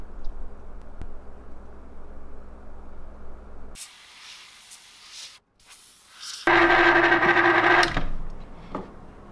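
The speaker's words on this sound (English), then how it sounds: "The ridiculous rotisserie is loud as ever" A rotisserie motor turns a freshly painted swimbait, giving a loud, steady mechanical whir with hissy bursts that stops and restarts, alone without speech.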